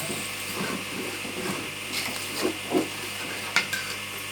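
Tomatoes sauté in a pan with a low, steady sizzle and a few soft utensil scrapes and clinks against the metal. No one speaks.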